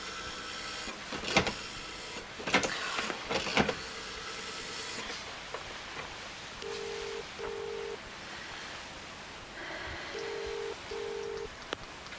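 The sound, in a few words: telephone number being dialed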